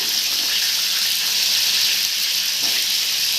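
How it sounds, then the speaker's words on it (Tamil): Apple slices frying in a pan for an apple crisp, a steady bright sizzle filling the space without pause, close and even, no voices. "எல்லாத்தையும் நம்ம வறுத்து எடுக்க போகிறோம்"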